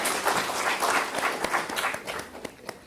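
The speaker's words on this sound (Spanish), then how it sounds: "Le damos un fuerte aplauso también," Audience applause at the VI Peruvian Human Rights Congress, a room of people clapping steadily with distinct individual claps, fairly loud at first and gradually thinning out toward the end.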